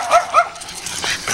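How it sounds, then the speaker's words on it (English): A dog gives two short, high yips close by, followed by faint background noise and soft movement. "Come on, Neon Dog."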